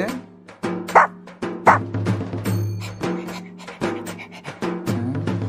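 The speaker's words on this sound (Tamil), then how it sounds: "ஓ நாய்க்குட்டியா?" A puppy yips and barks in short high bursts, repeated several times in quick succession, close and fairly loud, with people speaking over and between the yelps.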